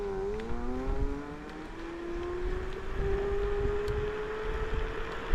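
An Envirorides G2 Pro electric scooter runs flat out at top speed in first gear, its motor giving a steady rising whine with layered harmonics over road and wind rumble, close and moderately quiet.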